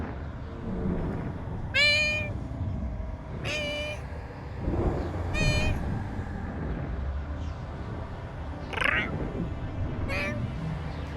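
A house cat meows insistently, about five loud, close, drawn-out calls spaced a second or two apart, over a steady low rumble of video game sound.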